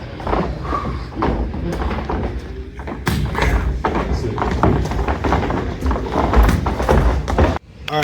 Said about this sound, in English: I'm gonna throw my right hand afterwards